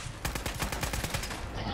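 Rapid automatic gunfire from Fallout 4, a steady string of about a dozen close, loud shots over a constant game background.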